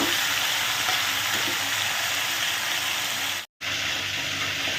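Shrimp frying in hot oil in a home kitchen, giving a steady, dense sizzle that holds close and loud, broken once by a brief near-silent gap before the frying hiss resumes.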